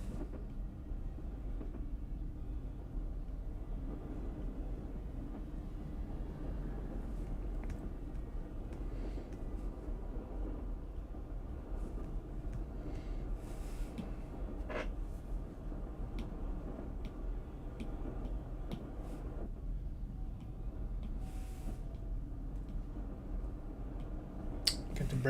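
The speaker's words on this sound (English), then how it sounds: "What do you guys think of these train sounds?" Steady train rumble and low rolling clatter play as continuous background ambience, with faint intermittent clicks and a brief rise near the end, no voices.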